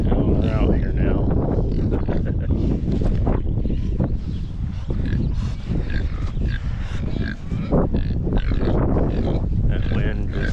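Pigs out in their grazing area grunt, snort and oink repeatedly up close, a busy overlapping chorus of low animal sounds with a voice speaking among them.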